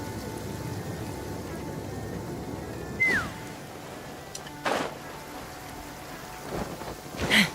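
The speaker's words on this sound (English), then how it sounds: "Rain." Steady rain with rumbling thunder in the video game Genshin Impact, a constant patter broken by a few sharp louder crashes and bursts.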